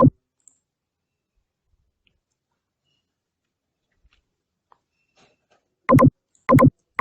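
Computer mouse clicks while working in ETABS structural software: one click at the start, then after a long quiet stretch a rapid cluster of three or four sharp, close clicks near the end.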